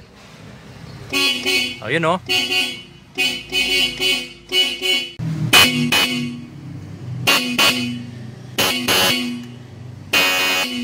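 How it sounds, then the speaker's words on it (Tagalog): Repeated short car horn honks in bursts, loud and close, with brief pauses between them and a few spoken words mixed in, as a repaired horn is tested. "tignan na natin mga bossing kung maganda yung tunog ng ating busina ngayon"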